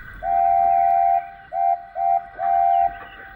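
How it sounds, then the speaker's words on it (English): A steam train whistle blows a pattern of blasts: one long, then two short, then another long, loud and clear over a low rumble. "he blew a special whistle."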